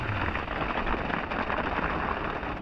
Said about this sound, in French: Et il y a moyen que ce soit la grêle là.